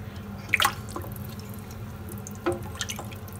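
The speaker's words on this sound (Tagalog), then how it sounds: "maaari na po natin lagyan ito ng tubig" Water splashes and drips into a cooking pot holding meat for sinigang, a Filipino sour soup, with a few sharp splashy drops and a low steady background hum throughout.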